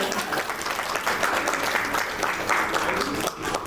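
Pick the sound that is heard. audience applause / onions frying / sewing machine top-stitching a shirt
audience applause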